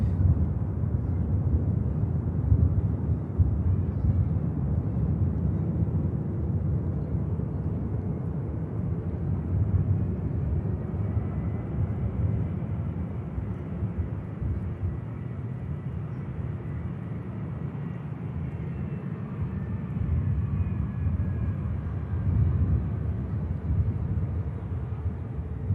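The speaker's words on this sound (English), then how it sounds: "And next out is a CF6 powered 330. This aircraft heading out as flight 931 of Aer Lingus" Aer Lingus Airbus A330 with CF6 engines departing Manchester Airport in rain, a steady, loud, broadband jet roar that holds level throughout with deep low rumble and no voices.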